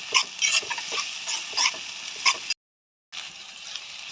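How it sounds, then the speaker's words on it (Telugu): Ginger garlic paste fries in a pan with a close, steady sizzle, broken by spatula stirring scrapes and a brief moment of silence partway through. "ఈ అల్లం వెల్లుల్లి పేస్ట్ మనకి రా స్మెల్ అన్నది పోయేంత వరకు ఫ్రై చేసేసుకుంటే సరిపోతుంది"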